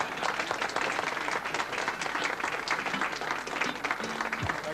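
Audience applause at a ceremony marking the SS France's conversion to the SS Norway: dense, sustained clapping from a large crowd, steady and loud throughout, with faint voices mixed in.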